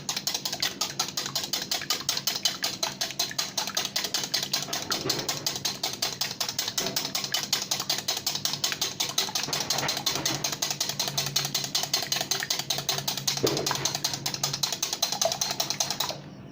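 A hand beater whisks cake batter for an eggless chocolate cake made without an oven, giving a steady, fast, continuous ratcheting whir that runs close and loud for the whole stretch with no talk over it.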